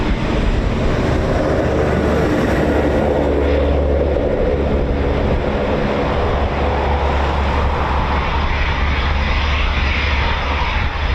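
A Eurofighter Typhoon FGR4 jet roars continuously at RAF Coningsby, a loud, steady, broad engine rumble and hiss holding for several seconds with no break.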